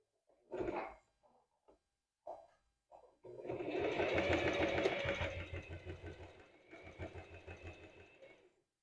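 A sewing machine stitches a straight seam with backstitch on a lace bra: a few short bursts of stitching, then a sustained run of rapid whirring and clatter that eases off near the end.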